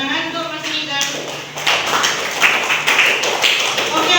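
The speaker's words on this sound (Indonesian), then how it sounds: "Tepuk tangan untuk Mas Nida." A ninth-grade classroom of students claps for a classmate, scattered close claps breaking out after a brief spoken voice and continuing unevenly.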